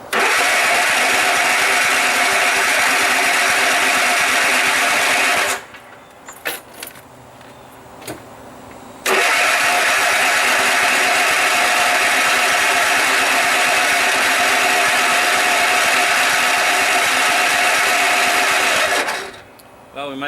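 A Cub Cadet RZT zero-turn mower engine cranks and catches, runs loud and steady, cuts out briefly amid clicks and rattles, then restarts and idles strongly before stopping near the end.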